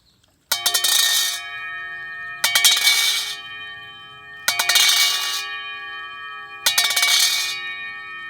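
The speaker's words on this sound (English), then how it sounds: "you clang the bowls together and you let them ring in" Tibetan singing bowls are clanged together four times at a steady, slow pace, each strike a bright metallic clang that rings on with sustained tones before the next hit.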